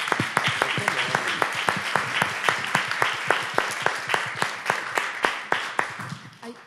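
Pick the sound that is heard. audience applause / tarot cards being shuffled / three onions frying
audience applause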